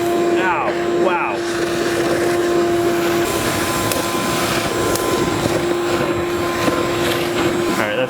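A wet/dry shop vacuum fitted with a Dust Deputy cyclone separator runs steadily and loudly throughout with a constant motor whine, and a voice briefly exclaims near the start.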